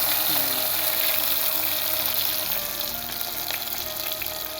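Green chillies and onion fry in hot oil with mustard seeds for an urad dal and colocasia leaf dish, a constant close sizzle with occasional crackles and no talk.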